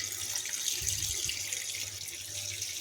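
Tap water runs steadily into a sink while 1.5 kg of chicken is washed, a continuous close hiss with a few brief splashy swells partway through.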